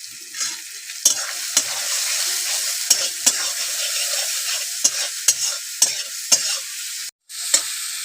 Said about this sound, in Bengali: মশলাটা ভালো কষে নেব